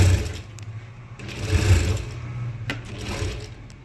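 A sewing machine stitches fabric for a jabba garment, running in close, loud bursts with a steady mechanical whir and brief pauses between runs.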